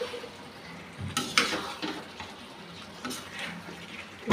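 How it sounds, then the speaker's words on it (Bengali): Fried chicken pieces sautéing in a spice paste of chili and garlic, a steady low sizzle with intermittent scraping and stirring knocks of a spoon in the pan, close up. "দিয়ে দিচ্ছি ভাজা চিকেনগুলা। এখন কষাবো একটু সময়।"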